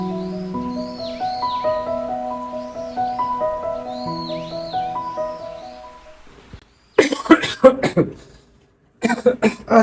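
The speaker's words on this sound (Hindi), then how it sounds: "तू फिर खांसना शुरू कर दिया" A man coughs repeatedly in a cluster of harsh, close bursts that begin after a stretch of melodic music fades out.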